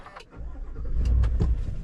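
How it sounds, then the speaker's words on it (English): A 2025 Chevrolet Silverado LT Trail Boss Z71 starts up: a brief starter crank, then the engine catches and settles into a loud, close, full idle rumble, with no talk. "foot on the brake, let's fire it up"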